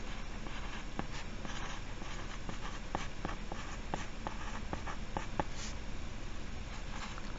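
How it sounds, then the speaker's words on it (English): A pencil scratches on paper at close range as a name and date are written, short quiet strokes and taps in an uneven rhythm over a soft background hiss, with no voices. "Okay, so write your name and date."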